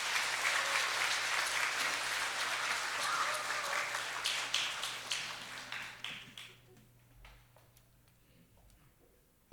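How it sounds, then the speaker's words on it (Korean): Church congregation applauding as the pastor comes out, a dense wash of many hands clapping that holds steady, then thins to scattered individual claps and fades away. "목사님 나오실 때 환영의 박수 부탁드리겠습니다"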